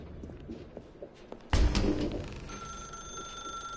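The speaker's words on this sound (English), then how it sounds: "Now pick up the phone." A telephone in The Stanley Parable video game starts ringing abruptly partway through, with a loud electronic ring and sustained tones after a quiet stretch of faint clicks.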